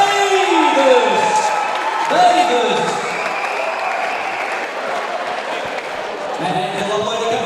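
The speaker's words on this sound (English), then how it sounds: "Please keep your applause going for Luke Bigelow." An audience at a SuperFight fight event applauds steadily, with scattered cheers, under an announcer's amplified voice over the arena sound system.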